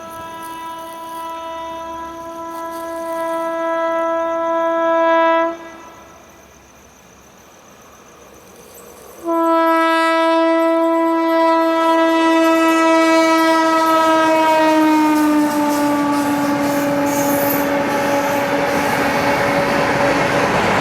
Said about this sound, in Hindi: हाँ, ये है Supaul Pune express x Danapur Pune superfast